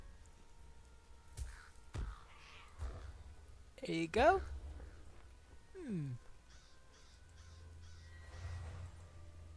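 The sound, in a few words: crows cawing, from the video game Lord of the Rings Online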